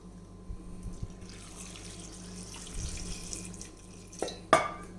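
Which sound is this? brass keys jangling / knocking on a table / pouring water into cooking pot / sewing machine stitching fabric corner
pouring water into cooking pot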